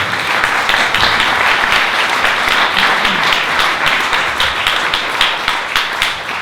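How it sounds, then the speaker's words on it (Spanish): Theatre audience applauding the actors, a loud, full round of clapping with some rhythmic pulsing that holds steady, then thins slightly toward the end. "Se merecen un aplauso"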